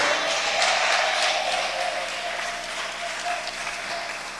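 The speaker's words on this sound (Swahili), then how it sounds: "Kama umeelewa hili neno ungempigia Bwana Yesu makofi." A church congregation applauds during a sermon, producing a dense, sustained roar of clapping that holds steady and tapers slightly, heard alone without talk.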